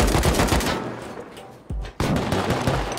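Rapid gunfire in the survival game Rust, a dense string of loud shots that fades toward the middle and then resumes in a sharp burst, with no talk over it.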